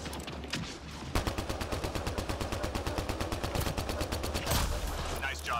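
Rapid automatic gunfire in Mass Effect: Andromeda multiplayer, a steady stream of evenly spaced shots hammering for several seconds before easing off, loud and close against a low game-ambience bed.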